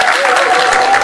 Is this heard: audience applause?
yes